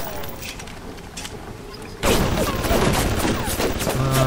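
Video game gunfire in Bioshock erupts suddenly midway, a dense, loud burst of rapid shots and crashing impacts after a quieter, rumbling stretch.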